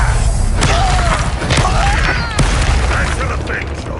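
Confringo spell blasts in Hogwarts Legacy: booming, crackling impacts and pops over a dense bed of battle effects, with a voice speaking throughout.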